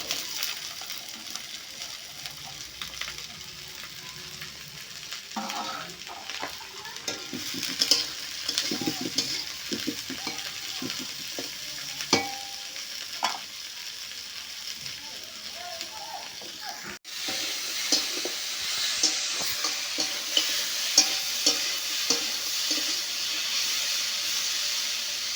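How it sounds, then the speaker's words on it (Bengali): Potatoes and borboti beans with salt and turmeric frying in a pan for chow mein, stirred now and then: a steady close hiss and sizzle with light scraping knocks throughout. "একটু লবণ আর একটু হলুদ দিয়ে দিয়েছি, দিয়ে এইভাবে ভালো করে নেড়ে ছেড়ে নিয়েছি"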